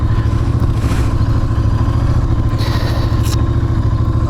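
Royal Enfield Interceptor 650 motorcycle engine running steadily and loudly up close, a continuous throbbing drone with brief clattering bursts partway through.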